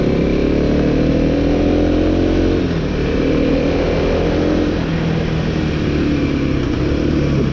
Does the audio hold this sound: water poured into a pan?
no